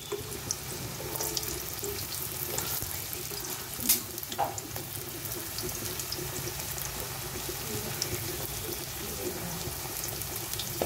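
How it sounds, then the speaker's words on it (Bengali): Potatoes and pumpkin fry in a pan, giving a continuous broad sizzling hiss that stays steady for about eleven seconds, with a few sharper crackles and pops. "আলু কুমড়োটা দিয়ে দিলাম, এটা একটু ভেজে নেব আমি।"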